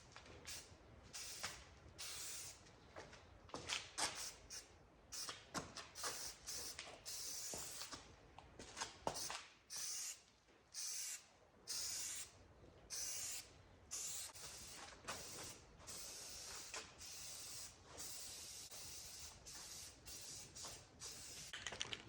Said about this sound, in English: we're gonna be shooting this high performance enamel, professional grade from Rust-Oleum. We're doing a matte black finish to match the grill, and yeah, let's spray it